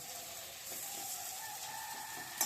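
Ginger paste hits a pan of frying potato, beans and onion, giving a steady close sizzle that holds throughout with no talking.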